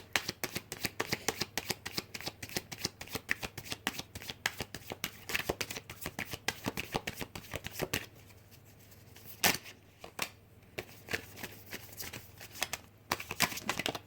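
A deck of tarot cards gets shuffled by hand in quick, crisp riffles and slaps, close and steady with a brief pause partway through.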